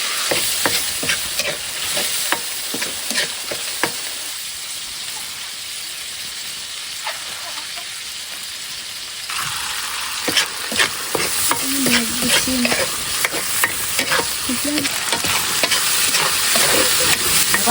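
Canned corned beef fries in a pan with a bright, crackling sizzle while a utensil scrapes and stirs it in repeated strokes, louder at the start and end with a quieter stretch in the middle.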